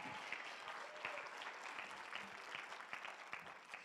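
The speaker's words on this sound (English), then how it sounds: "Can we give the Circle of Change team a round of applause?" Audience applause for the Circle of Change team at a morning keynote session, steady dense clapping from a crowd throughout, moderately distant and fairly quiet, with no speech over it.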